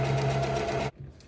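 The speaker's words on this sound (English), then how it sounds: "Once I start sewing, it's going to catch both sides." A sewing machine runs steadily, loud and close, while sewing ribbon onto a ribbon skirt, then stops abruptly, leaving quiet handling noise.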